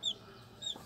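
A brooding hen on a poultry farm gives a few soft, faint clucks, one at the start and another near the end, over a quiet background.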